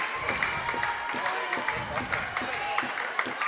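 A crowd in a gym at a high school volleyball game claps in a brief burst of steady, moderately loud applause, with an announcer's voice speaking over it.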